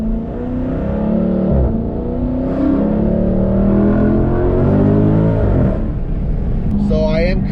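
A 2018 Dodge Charger Daytona 392 V8 with an eight-speed automatic, Borla catback exhaust and Mopar cold air intake accelerates hard, a loud deep engine roar rising in pitch through gear changes, heard from inside the car.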